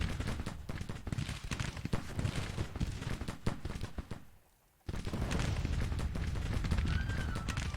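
Sustained musket volleys and gunfire in the American Civil War strategy game Grand Tactician, a dense rolling crackle of many shots that drops out briefly near the middle before resuming just as loud.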